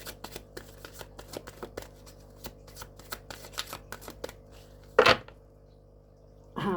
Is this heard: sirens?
no